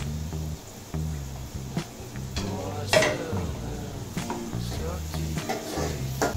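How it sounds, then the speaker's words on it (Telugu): Onion and green chillies go into hot oil in a pan for paneer curry, with clattering utensils and metal clinks over a low sizzle while a person talks nearby. "ఆనియన్ పచ్చిమిర్చి కూడా ఇప్పుడే వేసేసుకోవాలి"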